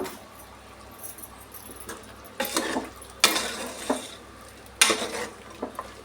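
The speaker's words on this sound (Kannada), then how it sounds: "ಆದ್ರೂ 1 ನಿಮಿಷ ನಾವು ಫ್ರೈ ಮಾಡ್ಕೊಳ್ಳೋಣ ಆಯಿಲಲ್ಲಿ." Chicken masala being stirred and fried in oil in a pan for a Nati-style chicken bassaru, with scraping and clattering strokes over a steady sizzle, louder bursts coming at irregular intervals.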